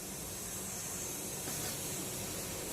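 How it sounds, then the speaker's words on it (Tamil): Fenugreek seeds sizzle and crackle steadily in hot oil, fairly close, a continuous frying hiss with no talking. "வெறும் வெந்தயம் மட்டும் போட்டு தாளிக்க போகிறோம்."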